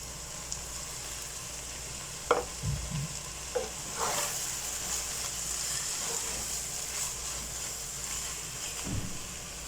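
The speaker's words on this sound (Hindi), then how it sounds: "मसालों के बाद अब मैं इसमें कटे हुए टमाटर ऐड कर दूंगी।" Chopped, peeled tomatoes drop into a frying masala for qeema, giving a soft, continuous sizzle with a few scraping stirs and light knocks scattered through nearly ten seconds, with no talking.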